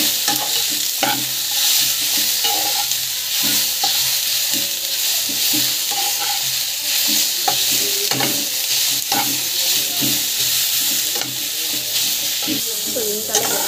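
Coriander and mint leaves sautéing in a hot pan for a pregnancy chutney, a steady close sizzle and fry hiss running throughout with repeated scraping stirs of a spoon against the pan, no voices over it.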